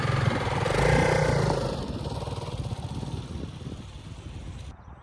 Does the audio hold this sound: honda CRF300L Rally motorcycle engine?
yes